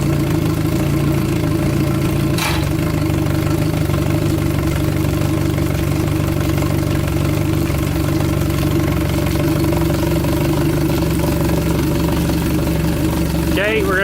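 Engine of a 2003 Bennington 2275 FSI pontoon boat running at a steady, loud idle, with a brief rising whir near the start and again at the end.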